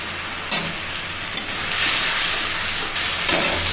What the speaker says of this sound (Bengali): এখন আমি টমেটো কুচিও দিয়ে দিলাম।